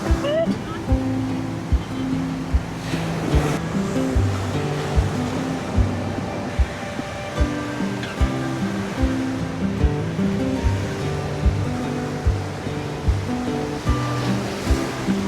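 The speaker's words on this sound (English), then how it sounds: "It is crazy that the waves are coming in both sides." Ocean waves wash onto a beach at Mirissa in southern Sri Lanka, a steady surf roar with music and sharp beats running over it throughout.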